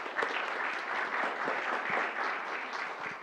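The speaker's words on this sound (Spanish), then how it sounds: "un aplauso grande para él" An audience at a tech talk on prompt and context engineering gives a warm, continuous round of applause, moderately distant and even, without speech over it.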